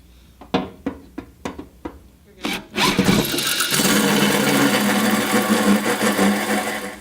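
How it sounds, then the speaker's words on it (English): Several sharp taps are followed by a power drill grinding loudly and continuously through a tank wall, cutting a 3 1/4 inch hole, close by. "now it's time for us to drill our 3 1/4 inch hole"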